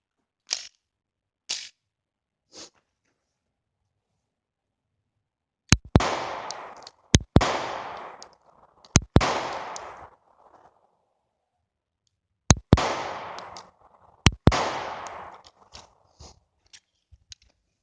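Taurus PT111 G2 pistol firing 124 grain Starfire rounds: five sharp, loud gunshots in two groups with short reverberant tails, preceded by a few faint clicks.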